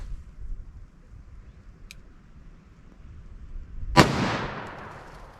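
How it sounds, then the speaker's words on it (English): A single sharp gunshot from a Smith & Wesson 686 .357 Magnum revolver with a 4-inch barrel firing 110-grain Remington HTP rounds, a loud close crack followed by a short echoing decay after a quiet lead-in. "First up, I'm going to do my 4-inch barrel Smith & Wesson 686."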